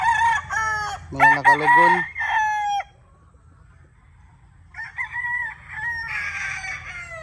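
Young roosters on a farm crow in several overlapping bursts, a loud close call at the start and more crowing after a short pause, with a brief spoken phrase in the mix.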